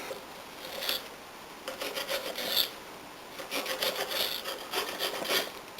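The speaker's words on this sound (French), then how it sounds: "je vais prendre à peu près 150 g de lard fumé que je vais découper en lardons" A knife saws through about 150 g of smoked bacon to make lardons, giving quiet rasping strokes in uneven bursts with short pauses between cuts.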